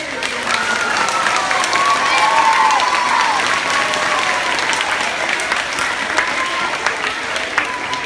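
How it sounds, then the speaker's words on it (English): An audience of parents and guests applauds 5th graders at a school math and science award ceremony, a dense, steady wash of clapping sustained throughout, loud and close, with faint crowd murmur underneath. "Let's give our 5th graders a big round of applause."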